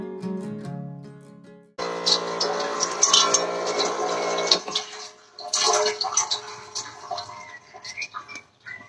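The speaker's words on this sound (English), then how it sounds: "that's how I'm going to dispense my water" Water runs from a recycled-parts tank dispenser in a budget camper van build, a close, splashing gush with uneven surges that follows a short passage of music.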